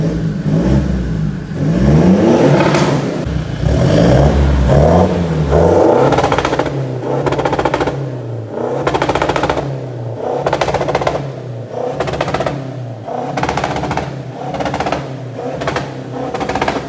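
A Stage 3 tuned Toyota Fortuner engine revs repeatedly, rising and falling in pitch, followed by a series of sharp throttle blips with crackling pops, loud and close.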